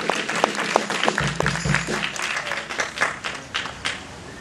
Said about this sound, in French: Juste des applaudissements tout particuliers pour Alison, puisque c'est sa première sorti